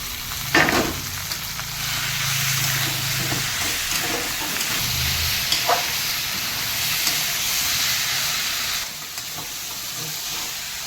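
Potatoes and mushrooms frying in a pan for a Bengali mushroom-potato curry, giving a steady close hiss and sizzle throughout with a few stirring clatters and scrapes early on, and no talking.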